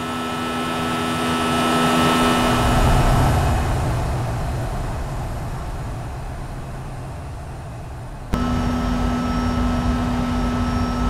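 Flight-simulator sound pack for the JAR A320neo: a continuous jet engine roar with a steady whine, swelling then easing before an abrupt cut to a brighter, tonal engine hum.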